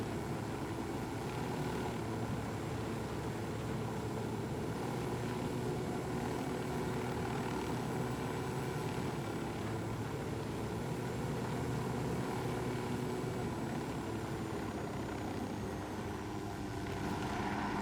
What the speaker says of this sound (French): Ah, mais c'est tellement pas discret un hélico.